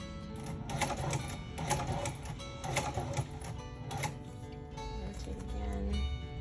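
A heavy-duty sewing machine stitching through sandal material runs in short rhythmic bursts of rapid clatter, pausing between runs, close and moderately loud with a low background hum.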